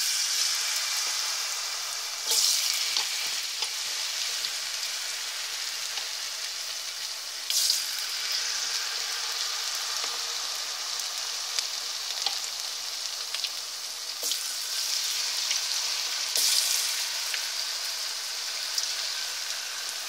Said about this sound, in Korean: 이제 반죽을 입힌 감자를 투하할 예정입니다.